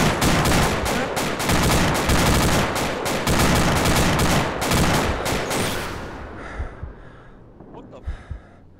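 Heavy, sustained gunfire and explosive blasts in the military shooter Arma 2, including SPG-9 recoilless gun fire, roar loud and dense for about six seconds, then drop to scattered distant thuds and a few muffled voices.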